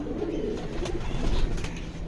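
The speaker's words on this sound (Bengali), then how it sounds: "এটা কালেকশন করা, কিন্তু এখন এটা আমার বিডার কবুতর" Breeder pigeons coo softly and continuously nearby, a low murmuring drone broken by a few faint taps and rustles.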